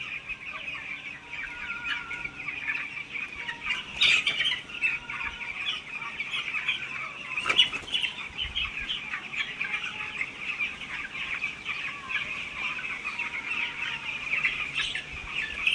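Farmed birds kept on sand in hot weather fill a shed with continuous dense clucking and chirping, a steady crowded chorus with occasional louder bursts, no voices.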